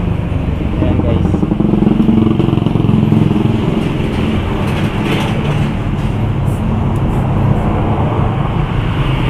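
A tricycle motorcycle engine idles with the choke on in a motor shop during carburetor troubles, a steady, rough, chugging putter that runs close and continuously while someone talks over it.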